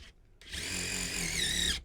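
A power drill whirs steadily for over a second, driving a bolt into the rear spat of a Subaru BRZ/GR86, loud and close with a rising tone near the end.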